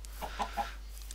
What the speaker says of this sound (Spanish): ¡Una gallina!